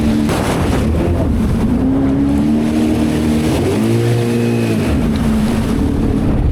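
A cheap 300HP Sea-Doo Patrol jet ski engine drones steadily on the water, its pitch rising and falling as it revs, with splashing and wind noise throughout.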